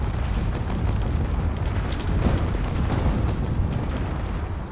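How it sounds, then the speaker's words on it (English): A corvette in a space combat game crashes into the ground and explodes, producing a loud, dense, sustained roar of blasts and crackling debris that holds steady for several seconds. "I think it's currently having some hydrogen issues and it's probably going to crash into the ground here."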